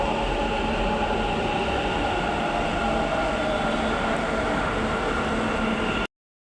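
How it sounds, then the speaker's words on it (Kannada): A metro train rolls into a station with a loud, unbroken rumble and hiss that holds steady for several seconds, then cuts off abruptly, with no talking. "ಮೆಟ್ರೋ ಬಂತು, ಹೋಗೋಣ ಬನ್ನಿ."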